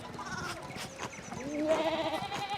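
Sheep bleat in the medieval village of the video game Pentiment, a few wavering bleats close by over soft ambient game sound, the last one longer and louder.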